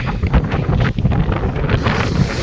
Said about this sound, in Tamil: நான் பேசுகிறது கேட்குதான்னு கூட எனக்கு தெரியல, ஏன்னா கொஞ்சம் லைட்டு காற்றாக இருக்குது.